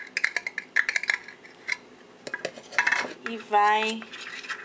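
Hand sanitizer gel mixture stirred in a container, with bursts of utensil scraping and clinking against the sides, irregular strokes, close and fairly loud, with a brief word spoken.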